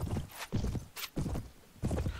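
Horse hooves clip-clop in a quick, uneven rhythm as a rider gallops in the video game Mount & Blade, with several close, loud footfalls.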